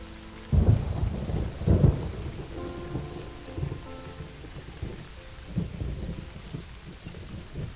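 Rolling thunder with steady rain in a storm, two loud low booms near the start followed by fainter rumbles over continuous rainfall, with no voices.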